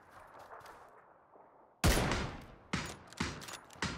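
Video game gunfire bursts out suddenly after a quiet stretch, a loud volley of rapid shots followed by several shorter bursts close by.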